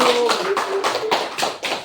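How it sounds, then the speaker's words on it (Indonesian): A classroom group claps in applause for the first team of students, a brisk run of about seven evenly spaced claps that sounds close and loud under a faint sustained tone. "Tepuk tangan untuk kelompok 1."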